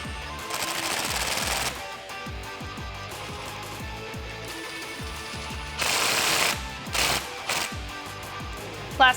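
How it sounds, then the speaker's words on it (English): An 8mm socket on a ratchet tightens the intake clamps of a Jeep Wrangler JL 3.6L V6, making rapid clicking bursts in several separate runs with short pauses between them, close by and without talk. "we can take an 8mm socket and tighten up both clamps."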